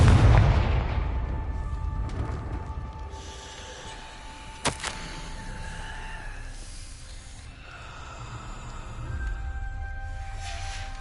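A Confringo blasting spell explodes in the Hogwarts Legacy video game: a deep booming blast that rumbles away, then a sharp crack midway over faint sustained music tones.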